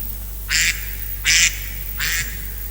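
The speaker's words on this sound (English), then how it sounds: "Oh, sorry, my duck again." A pet duck quacks three times at a steady rhythm, loud and close, during an indoor retreat talk, with a low constant hum underneath and no speech.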